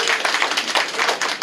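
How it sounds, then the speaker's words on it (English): An aviation club meeting audience applauds a donor with brisk, dense clapping that stays loud and continuous through a brief burst, with no talk over it. "round of applause for Clyde."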